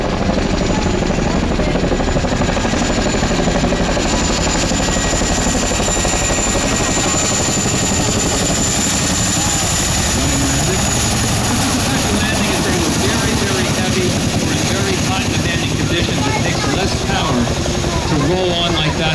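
A CH-47D Chinook tandem-rotor helicopter comes in for a rolling landing, its heavy rotor thump and engine roar loud and steady throughout, with no pause or gap.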